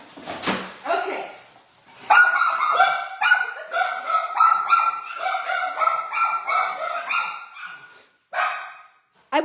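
Several dogs barking loudly and excitedly indoors, a rapid run of sharp, overlapping barks and yips close by, pausing briefly before a final burst; a person speaks at the start.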